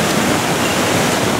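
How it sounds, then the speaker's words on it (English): A waterfall heard up close beside a big rock, a dense, loud broadband rush of falling water that stays constant throughout with no other sounds. "There's waterfall there."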